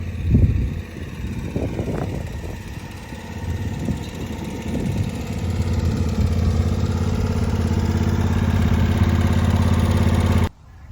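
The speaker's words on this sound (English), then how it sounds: "I'm going to mow this yard" Engine of a 2019 Exmark Turf Tracer zero-turn mower running steadily while mowing a yard, a loud close low drone with a few louder surges early on, then holding even until it cuts off near the end.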